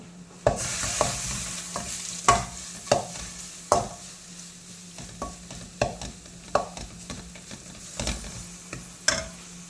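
Chopped young jackfruit for a thoran is stirred in a pan: a spoon scrapes and knocks against the pan roughly every second over a low steady sizzle, close and clear, with no voices.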